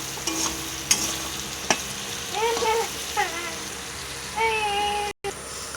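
Onion and capsicum fry in a pan with salt and turmeric, a steady sizzle broken by sharp stirring scrapes and clinks, close and fairly loud, with a brief dropout near the end.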